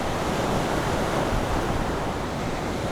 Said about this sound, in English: Great noise of the waves there.